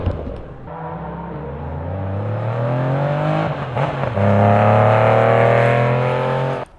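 A Porsche 911 Carrera RS of the 993 generation drives close by, its engine droning loud and steady as the pitch climbs and falls through gear changes, with no voices over it.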